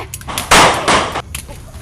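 Gunfire in a tense confrontation, two loud broad bursts about half a second apart, close and harsh, followed by fainter cracks and some background clatter.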